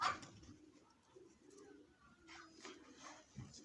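Soft, low pigeon cooing from a female pigeon in a loft, faint and close, repeating in short murmuring phrases.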